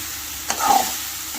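Ridge gourd stir-fried in a pan gives a short stirring scrape and a soft sizzle, a single brief burst over quiet kitchen background with no talking.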